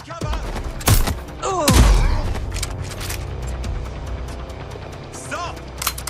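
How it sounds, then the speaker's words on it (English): Gunshots and booming impacts in the game Watch Dogs Legion, a few loud sharp blasts with heavy low thuds and scattered cracks over a rumbling background. "Shots fired!"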